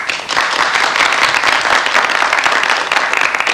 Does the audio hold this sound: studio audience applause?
yes